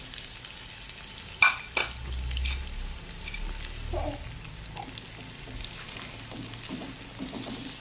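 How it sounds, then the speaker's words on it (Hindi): Onions frying in hot oil, a steady close hiss with a sharp clatter early on, then a few stirring scrapes and soft bubbling pops over the continuous sizzle, no speech. "तो ऑयल हमारा गर्म हो चुका है, तो हम इसमें प्याज डालेंगे।"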